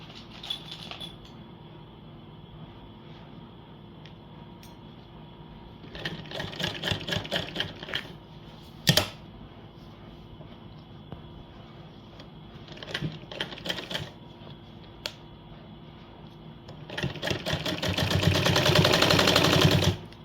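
A domestic sewing machine stitches lace onto a chunni in bursts, with quiet pauses between short runs, a sharp clack near the middle and a louder sustained run at the end.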